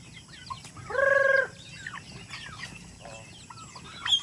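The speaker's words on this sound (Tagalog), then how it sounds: "marami na actually tayong manok dito rin, gumagala lang ngayon" A free-roaming farm chicken gives a drawn-out, harmonic cluck, with softer clucks and chirps around it over a steady outdoor hum.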